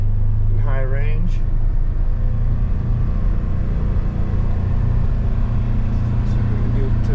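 A 2024 Polaris Ranger UTV on 4-inch portals and 32-inch tires driving in high range, its engine and drivetrain a loud, continuous close rumble throughout, with a brief voice early on.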